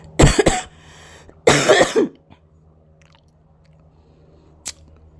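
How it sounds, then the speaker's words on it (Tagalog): A person coughs twice in close succession, harsh and near the microphone, each burst rough and throaty, followed by a quiet room with a faint low hum and a single brief click near the end. "inuubo talaga ako guys, hindi mapipigilan"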